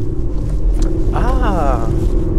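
Volkswagen Polo GT engine and exhaust rising under acceleration, a steady low rumble that swells as revs climb, with a voice talking over it.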